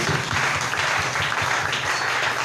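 A church congregation applauds and acclaims during a French-language worship service, a dense, steady wash of clapping with a rhythmic low thumping underneath, sustained and fairly loud.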